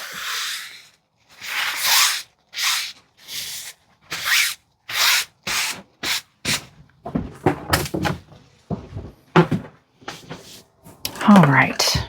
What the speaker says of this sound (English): anytime you sand, wear a mask